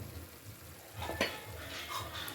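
A spoon stirs adobong kangkong with tofu in a pan, a brief, quiet sizzle with a couple of soft scraping strokes, heard up close with no talking.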